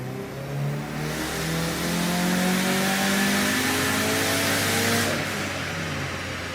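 Turbocharged car with an IAG 750 engine and Blouch turbo accelerating at 40% throttle to 12 psi boost, a steady engine drone rising smoothly in pitch for several seconds, loud and close, with no talk.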